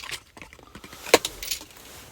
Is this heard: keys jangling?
yes